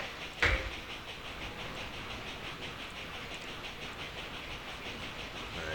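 A train runs in the video game Railroad Tycoon II, a steady mid-level rolling rumble with rhythmic clicking and a faint hiss, opened by one sharp clank near the start.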